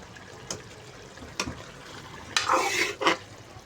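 A spoon stirring tinda (apple gourd) sabzi masala in a cooking pan: a few separate scraping strokes, then a louder wet, sizzling stir near the end, close and fairly quiet with no voices.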